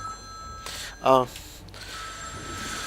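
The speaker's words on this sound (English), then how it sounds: "Phone call!" A single short electronic telephone ring in a video game, a brief bright trill over a quiet background.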